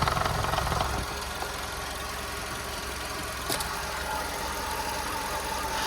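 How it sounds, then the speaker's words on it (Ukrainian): A Skoda Octavia engine idles steadily with a low, even rumble and slight knocking, close and continuous with no talking. "Двигун працює чітко."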